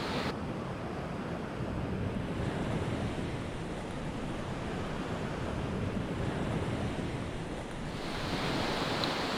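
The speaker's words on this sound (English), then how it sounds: "there are still waves, fairly big waves, breaking on the reef around this island" Fairly big waves breaking on a reef around a remote Indonesian island, a continuous loud roaring wash of surf with wind rumble, steady throughout and with no voices.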